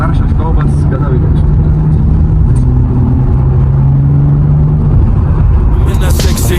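A BMW M340i drives and accelerates with a deep, loud engine rumble and rising drone heard from inside the cabin, while people talk over it.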